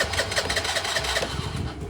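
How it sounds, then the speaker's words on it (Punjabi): A Honda Activa scooter engine that starts hard in the morning runs close by with a steady, slightly uneven putter and no pauses. "ਸਵੇਰ ਨੂੰ ਬਹੁਤ ਔਖੀ ਸਟਾਰਟ ਹੁੰਦੀ ਹੈ ਸਕੂਟਰੀ"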